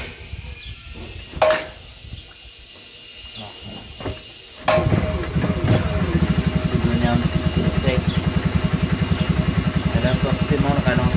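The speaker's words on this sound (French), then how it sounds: "Là forcément le ralenti je le trouve un peu bas." A Yamaha Bruin 350 ATV engine turns over after a few clunks and handling knocks. It then settles into a close, loud, low idle with rapid even pulses that continue steadily to the end.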